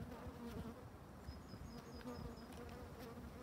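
A Buckfast-descended honeybee colony in an open hive buzzes in a steady, close drone, with a few higher whines of single bees passing near.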